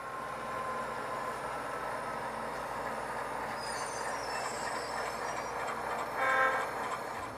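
An HO scale model train with diesel locomotives runs steadily along its track, a continuous rolling rumble with faint wheel squeals and a brief louder rattle near the end.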